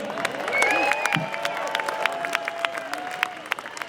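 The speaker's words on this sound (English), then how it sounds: "Round of applause for Pat Kane." Scattered clapping and some cheering rise from a crowd at an outdoor march and rally in Scotland, moderately distant and fairly subdued, with faint voices and a sustained whistle-like tone mixed in.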